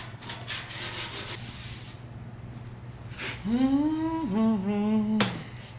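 Hand sanding a Chevy Blazer body with 80-grit sandpaper, rhythmic back-and-forth rubbing strokes up close, followed by a brief higher whining tone near the end.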